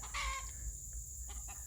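Chickens by a garden, with a short, clear clucking call near the start and then softer, scattered clucks over a low background hum.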